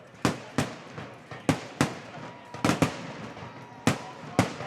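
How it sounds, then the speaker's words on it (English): Fireworks burst over a football game against Pikeville, a series of about a dozen sharp booming cracks at irregular intervals, each trailing off in an echo across the stadium, with faint crowd noise between. "These fireworks are still going."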